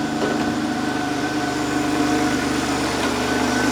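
Citroen XM 3.0 24V engine idling after a cold start, a steady, slightly high idle hum heard close and alone.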